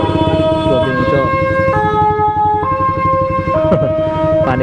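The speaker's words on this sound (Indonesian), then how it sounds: "panik ada ambulan." A loud ambulance siren wails right alongside on a road, its stepping two-tone pitch changing as it passes, over steady engine and traffic rumble.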